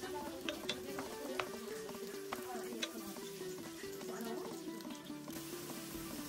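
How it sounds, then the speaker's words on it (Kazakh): Thinly sliced half-ring onions frying in hot oil for beef stroganoff, a continuous soft sizzle with light crackles and stirring clicks, close and quiet, over a faint steady background hum. "Май қызғанда алдымен пиязды дұрыстап қуырып аламыз."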